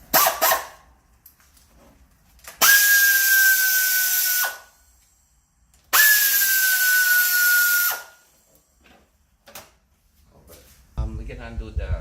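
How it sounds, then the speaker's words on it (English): A power tool whirs loudly in two bursts of about two seconds each while removing the engine cover on a 2008 Toyota Camry with a 10mm socket on an extension. Quiet clicks and handling noises fall between the bursts. "we're gonna use a ratchet with the extension and 10mm socket"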